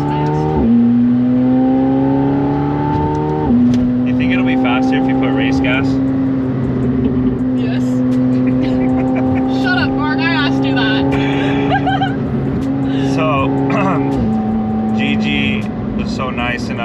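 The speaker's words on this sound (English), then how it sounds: "This car is fast. It is fast." A 2JZ-swapped Toyota Supra MKV A90 engine roars loudly and climbs through steady gear shifts, with people talking over the constant rumble.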